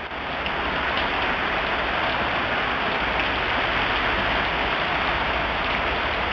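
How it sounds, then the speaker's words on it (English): Heavy rain pours steadily onto a flooded backyard and cement patio, a dense continuous hiss with no breaks from start to finish. "So that is how bad it's raining right now."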